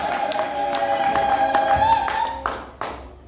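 An audience claps for a woman who has just read aloud at a Swahili church Bible seminar, the applause steady under a sustained tone and then trailing off with a few final claps.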